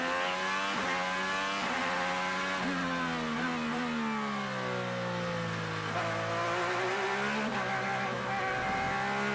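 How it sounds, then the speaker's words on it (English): An IndyCar race car screams past on a street-circuit grand prix track, its high engine note sweeping and shifting continuously as it nears and passes, loud and sustained with no talk. "One car coming past me now."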